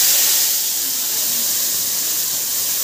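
Turmeric and spices hitting very hot oil in a kadai give a loud, steady frying sizzle, a continuous bright hiss that lasts throughout with no talking.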